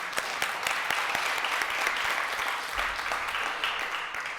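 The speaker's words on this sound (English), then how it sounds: "I think that deserves a hand clap." Steady applause from an audience at a school progress event in Camden, New Jersey, a dense crowd of clapping hands carrying on evenly for several seconds with no one speaking over it.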